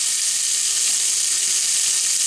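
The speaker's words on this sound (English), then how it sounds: "I'm going to fry this round the pan until it starts to soften" Diced onion frying in a pan gives a loud, dense, even sizzle that fills the whole short stretch without a break, close up and with no talking.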